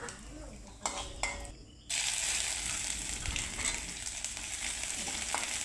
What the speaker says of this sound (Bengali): তেলের উপরে গোটা জিরে, আদাটা দিয়ে দিব। ভালো করে ফোড়নটাকে একটু ভেজে নেব।